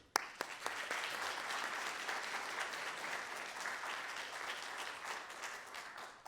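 An audience applauds to welcome a speaker at a malaria lecture, with steady sustained clapping across the whole hall, starting with a few sharp claps and fading slightly at the end.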